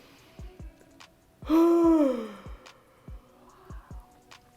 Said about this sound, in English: these are deliberate yawns